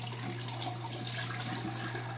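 Tap water runs steadily into a sink, a continuous soft hiss with a faint low hum underneath, fairly quiet and without voices.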